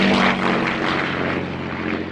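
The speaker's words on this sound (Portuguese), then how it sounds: "enquanto aviões de reconhecimento procuravam do alto." Propeller reconnaissance airplanes drone overhead in a steady, loud, continuous engine roar with a low pulsing hum, sustained throughout with no voices.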